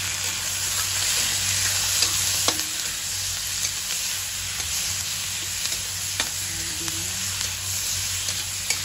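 Chicken gizzards fry with plenty of onion and garlic in a pan for dry chicken adobo, giving a constant close sizzle with occasional spatula taps and scrapes.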